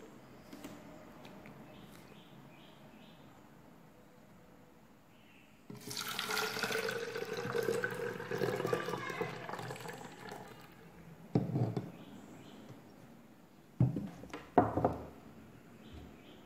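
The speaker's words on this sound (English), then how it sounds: "Next, pour this solution in the bottle." Yeast solution is poured into a bottle, a quiet stretch giving way to a gurgling liquid stream at mid-clip, followed by a couple of short splashing bursts near the end.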